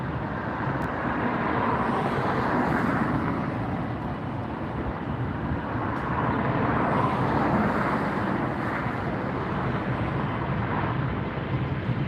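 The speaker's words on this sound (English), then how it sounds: "Lufthansa A380 is heading out now" A Lufthansa Airbus A380 jet departing Los Angeles International Airport, a steady broad roar heard from a distance with wind buffeting, sustained without a break.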